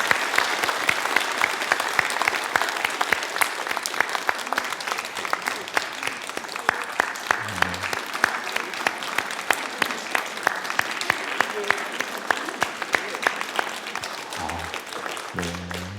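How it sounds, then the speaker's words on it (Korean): A church congregation applauds new members during a Sunday service with communion, sustained loud clapping from many hands lasting the whole stretch, with a couple of brief low voice murmurs near the middle and end. "우리 잠시 뒤로 돌아서 인사하실 때에 우리 크게 박수해 주시기 바랍니다."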